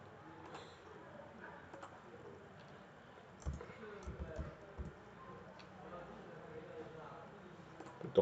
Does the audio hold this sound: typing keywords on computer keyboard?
yes